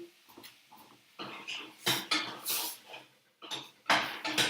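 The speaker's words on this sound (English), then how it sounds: "Just give the meat a little bit of stir." Minced meat for spaghetti bolognese is stirred in a pan: a few separate bursts of spoon scraping and clatter against the metal, fairly quiet and close, with short pauses between strokes and no voices.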